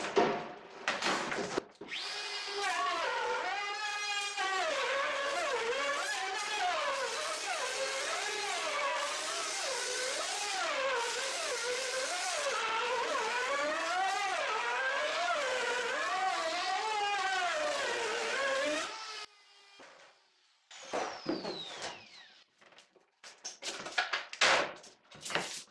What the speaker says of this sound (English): And we'll go ahead and route again.